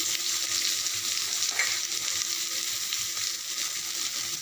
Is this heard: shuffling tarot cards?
no